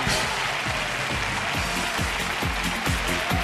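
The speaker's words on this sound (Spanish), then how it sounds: "La ovación para los dos equipos" A game-show studio audience applauds both teams on a 1996 Spanish summer contest, loud continuous clapping with a broad noisy wash and faint rhythmic thumps underneath.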